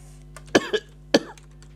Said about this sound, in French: C'est chiant d'être enrhumé et de tousser sans arrêt.